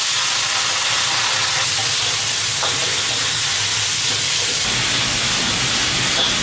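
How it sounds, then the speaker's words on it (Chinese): Pork belly hits a hot oiled wok and sizzles loudly, a dense continuous hiss of frying that fills the whole stretch with no talk. "肉下锅，"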